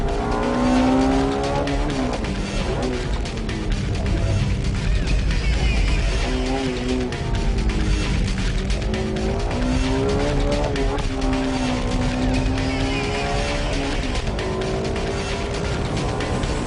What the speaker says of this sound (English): He showed us some serious driving on the tight turns by using first gear at corner exits